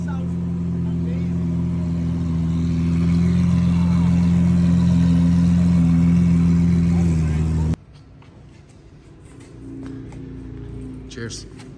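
A cop car's engine runs with a loud, steady low rumble that swells slightly, then cuts off abruptly, leaving quieter background sounds with faint knocks.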